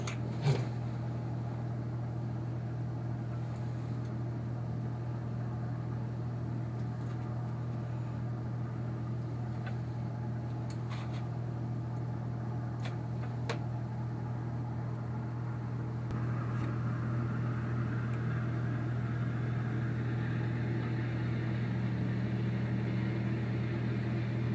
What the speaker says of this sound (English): you will hear an engine roar in the background